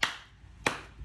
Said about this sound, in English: Slow clap for that one.